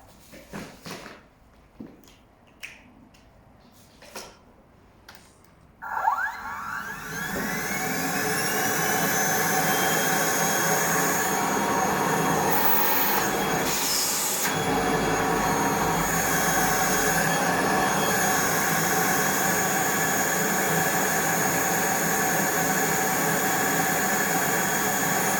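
A few quiet clicks come first, then a Rainbow vacuum cleaner starts and spins up to full power, holding a loud, steady roaring whine close by for the rest of the clip.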